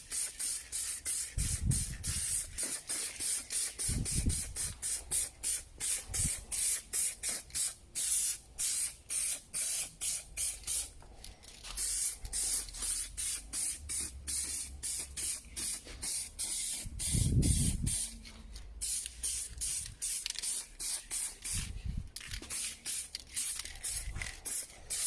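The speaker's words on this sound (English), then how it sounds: "I'll be spraying with some black Renault paint," Black Renault car paint sprays from an aerosol can onto parts of a 2014 VW Tiguan in a series of short hissing bursts with brief pauses between them, close by, with no talking.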